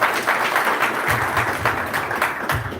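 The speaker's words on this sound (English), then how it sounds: "A round of applause for Bruce Wan." Applause from a seated audience at a corporate partnership ceremony, a brief, steady patter of many hands with a few low thumps underneath.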